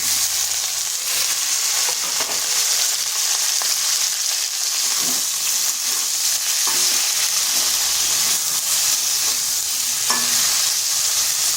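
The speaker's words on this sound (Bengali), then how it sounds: "এরপর এখানে দিয়ে দিচ্ছি কেটে রাখা ঢেঁড়সগুলো" Cut okra stir-fried with lightly fried potatoes in a pan over medium-low heat gives a continuous loud sizzle, with occasional scraping stirs and no voices.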